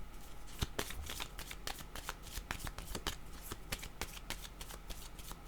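Tarot cards being shuffled close up, with a fast run of crisp riffling snaps and flicks repeating continuously at quiet volume and no talking.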